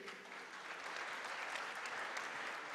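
An audience at the opening ceremony of the U23 World Squash Championship applauds the federation president. The clapping is soft and distant but continuous, a steady wash of many hands throughout.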